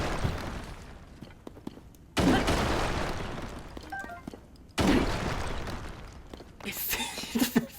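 Bomb thrown in The Legend of Zelda: Tears of the Kingdom, with two loud explosive bursts close together, each followed by a long rumbling decay, and a crackling burst near the end.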